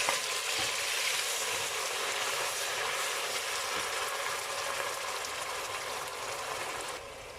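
Ground onion paste fries in hot oil for a beef kofta dish, giving a steady, dense sizzle and crackle close by, with no talking.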